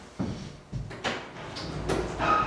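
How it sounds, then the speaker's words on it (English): Heavy prison door at the old Missouri State Penitentiary sliding open after a push button is pressed, several mechanical clunks and a rising rumble at close range, with a faint high whine near the end. "can you push the button and open the door?"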